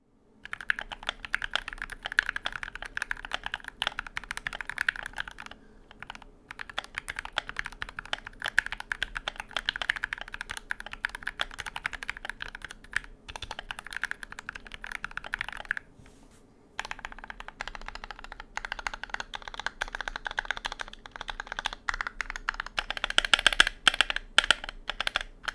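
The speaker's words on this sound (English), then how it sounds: "So here's what the keyboard sounds like stock." Steady typing on a stock Undefined 61 mechanical keyboard, a dense run of clacky keystrokes close up, with a couple of brief pauses between bursts.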